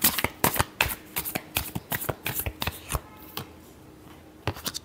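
Tarot cards being shuffled by hand, a rapid series of crisp riffling slaps and flutters in uneven bursts, close up, with a brief pause before a final few shuffles.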